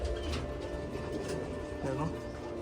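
Soft cooing of Belgian racer pigeons at a West Bengal pigeon farm, a low continuous murmur with one clearer rising-falling coo near the end, under a man's speech.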